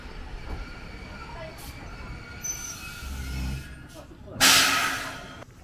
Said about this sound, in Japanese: 1時間に1本の電車がやってきました。